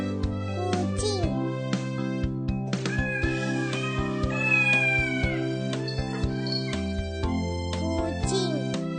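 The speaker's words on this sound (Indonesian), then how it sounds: "Kucing." A domestic cat meows repeatedly over steady background music, several distinct meows spread across the clip, fairly clear and near.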